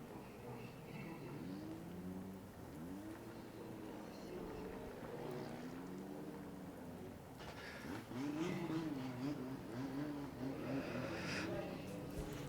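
An 840-horsepower 2JZ-powered Nissan S13 drift car heard at a distance, its engine note rising and falling in repeated revving sweeps that grow louder toward the end, under light crowd and ambient noise.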